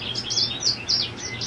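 A young goldfinch about four months old, held in the hand during sexing, gives a quick series of thin, high chirps close by with no talking.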